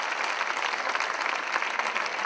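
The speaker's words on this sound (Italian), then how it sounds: "Fate un applauso a quel grande uomo che è seduto." Dense audience applause fills a short stretch at a public talk, steady and fairly loud with no voices over it.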